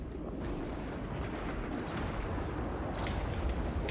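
Distant artillery and gunfire rumble in a Total War: Warhammer 2 battle, a dense continuous wash of low booms and crackling shots, with a few sharper bursts near the end; no voices.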